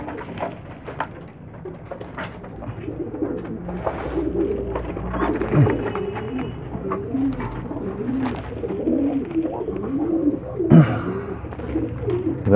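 Pigeons and young squabs coo in a loft, with overlapping low, throaty calls and some rustling and shuffling close by.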